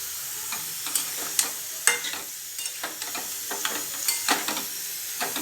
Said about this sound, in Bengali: এটা এঁচড়ে দিয়ে দিচ্ছি। দিয়ে এটা কষাবো ভালো করে।